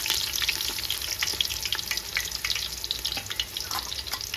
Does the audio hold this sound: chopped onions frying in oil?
yes